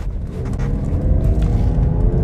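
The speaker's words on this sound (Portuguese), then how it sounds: "Ronquinho, ronquinho do esportivo ele tem" An Infiniti FX35 luxury SUV engine growls steadily under acceleration, a close, loud low rumble with a faint rising tonal whine and no talking.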